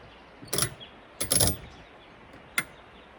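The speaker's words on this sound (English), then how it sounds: "I'm going to clamp this edge down" A clamp is tightened onto the edge of a roof rafter, giving three short mechanical ratcheting clicks and rasps, close by, with quiet pauses between them.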